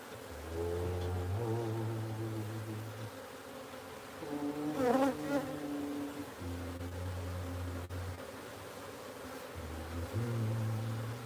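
Honeybees from a wild hive being scooped into a new home, a close, droning buzz that rises and falls in pitch as individual bees fly near, with overlapping hums and brief louder swells.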